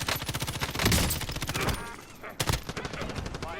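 Rapid bursts of automatic gunfire in the battle royale game Warzone, loud and dense, with repeated rattling volleys and a brief lull before another sharp burst near the end.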